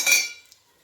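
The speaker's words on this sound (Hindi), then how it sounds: "तो इसके लिए मैं सारे मसालों को मिक्सर जार में डाल रही हूँ।" Whole dry-roasted spices for red chilli pickle are dropped into a mixer jar, a brief bright clatter and clink of hard pieces on metal that quickly fades into quiet.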